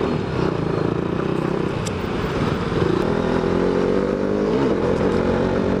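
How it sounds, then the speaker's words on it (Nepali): A second-hand motorcycle with a new clutch plate is ridden along, its engine droning steadily and close with slight revving throughout, no talk. "अहिले पिकअप दामी भयो यार बाइकको"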